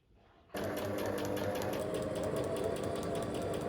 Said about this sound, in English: Next we're going to sew up the bodice for the dress.